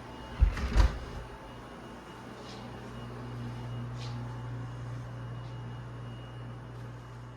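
A door in a house is opened with a couple of close, sharp knocks and thumps of the latch and frame, followed by a steady low room hum.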